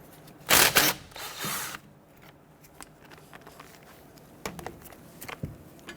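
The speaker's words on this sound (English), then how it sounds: "12mm socket, loosen and remove this bolt." A ratchet with a 12mm socket loosens and removes a brake line bolt beside the rear strut of a 1992-1996 Toyota Camry, with a loud burst of ratcheting near the start, then sparse, quieter clicks.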